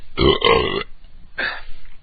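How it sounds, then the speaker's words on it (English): Loud, close burp after drinking a beer, a long rumbling belch in two pulses followed by a shorter second burp. "that's the first burp of the night"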